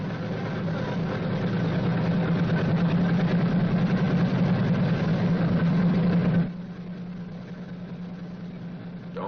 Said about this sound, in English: Then release the starter switch at once, but continue to prime intermittently until the engine is running smoothly.